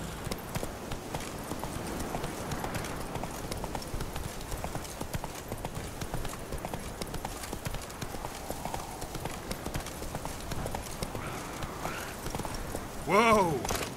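Horse hooves clip-clopping steadily in The Witcher 3 as a rider travels near Kaer Morhen, a continuous rhythmic beat under game ambience, ending in a brief whinny near the close.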